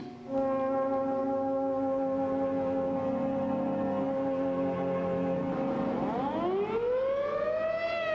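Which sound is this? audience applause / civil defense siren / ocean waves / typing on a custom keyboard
civil defense siren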